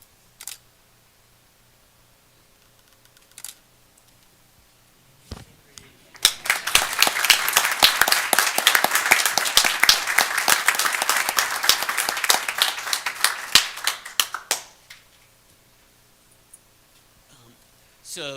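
Applause for the Clear Falls High School cheer squad at a school board meeting fills the room for about eight seconds, dense and steady with sharp individual claps, after brief scattered sounds and before quiet returns.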